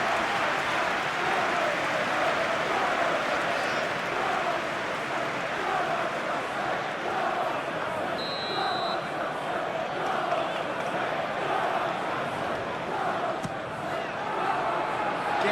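Broad, steady stadium crowd roar with cheering from a PES 21 football match simulation, Arsenal vs Chelsea, loud and continuous throughout, swelling slightly at moments, with no voices standing out.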